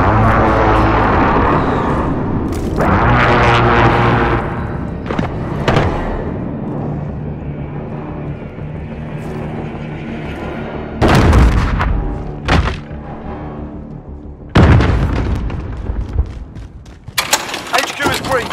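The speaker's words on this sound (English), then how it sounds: "Friendly precision airstrike inbound." Precision airstrike explosions land in a Call of Duty: Modern Warfare match as a series of heavy booms and thuds. Loud engine rumble and game noise run between the impacts.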